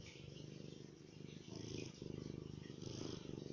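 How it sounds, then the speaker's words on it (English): A cat purrs up close in a steady, rhythmic rumble with soft pulsing breaths, quiet but continuous and alone. "Oh, I can hear you purring up a storm."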